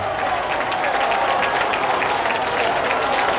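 A home crowd roars steadily for a goal by Riccardo Chico at the Esseneto stadium in Agrigento, a dense, loud wash of cheering and clapping with no break through the whole stretch.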